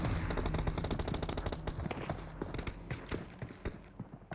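Rapid automatic gunfire in the video game PUBG, aimed at a car: dense, fast bursts of close, loud shots that keep firing throughout, thinning slightly toward the end.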